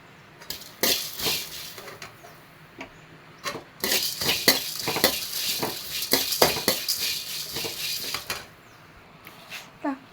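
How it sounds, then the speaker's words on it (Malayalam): Dry chilli and coriander seeds are tossed in an oil-free pan, giving sparse then busier bursts of rattling, scraping and clinking as the spices shift against the metal, close and fairly quiet with gaps between stirs. "ലേശം മുളക്, മല്ലി നമുക്ക് ചീനിച്ചട്ടിയിൽ ഇട്ട് കൊടുത്തിട്ട് ഒന്നും വറക്കാം."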